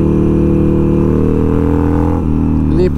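Harley-Davidson 1200XR motorcycle engine pulling hard under acceleration, a loud, close, steady rumble that rises in pitch near the end.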